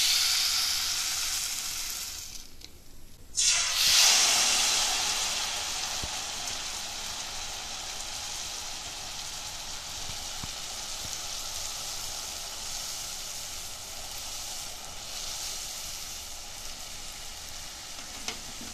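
Rice-flour rose cookies (achu murukku) frying in hot oil. A steady crackling hiss runs throughout, with a louder, brighter burst of sizzling around the third second as the batter-coated mould is lowered in.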